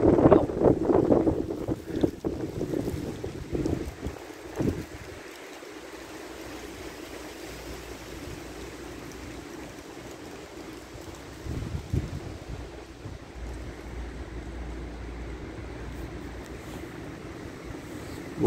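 Strong gusty mistral wind at about 110 km/h in Provence roars and buffets loudly at first, then settles into a steadier low rush before another gust rises.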